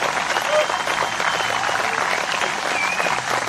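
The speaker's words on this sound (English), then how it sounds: "Give this band another round of applause for me" Steady audience applause for the Peoria Municipal Band at an outdoor summer concert, a dense continuous wash of clapping from a moderately distant crowd, holding even throughout with no clear breaks.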